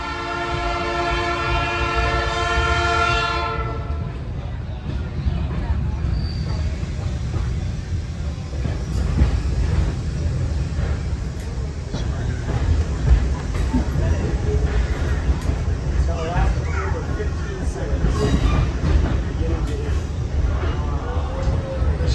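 Sierra Railroad excursion train sounds its warning horn loudly for several seconds at a road crossing, then keeps rumbling and clattering steadily along the track, with faint voices under the running noise.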